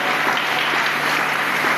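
A church congregation claps and cheers in a steady, dense wave of applause that fills the room, loud and continuous with no pause.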